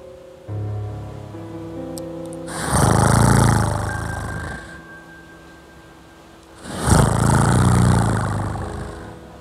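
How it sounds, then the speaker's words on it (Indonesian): Person snoring in the adjoining room, two long rasping snores several seconds apart, loud and rumbling, with a low droning hum before the first. "Suara dengkuran ini berasal dari kamar sebelah."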